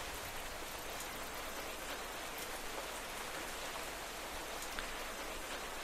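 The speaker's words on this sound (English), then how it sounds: "Oh great, rain." Steady rain falls in Minecraft, an even, continuous hiss of drops that holds at low volume throughout with no talking.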